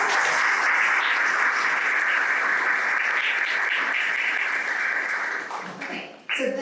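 Audience applause for the finalists of a university venture competition final event, a steady dense clapping that fills the room at a constant level before thinning and fading out near the end.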